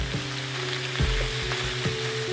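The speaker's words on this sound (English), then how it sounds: "Oil is hot. I am adding the marinated prawns." A pound of prawns marinated with salt and turmeric fries in hot oil, producing a close, continuous crackling sizzle with a few louder spits and stirring bumps.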